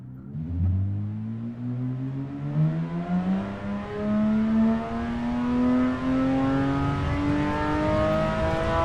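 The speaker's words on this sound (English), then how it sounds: "Oh, that engine." A car engine revs hard and close, its drone sweeping steadily upward in pitch as it accelerates through several gears and growing louder, with no talking.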